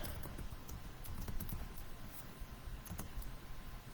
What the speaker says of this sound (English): So let's type these in here.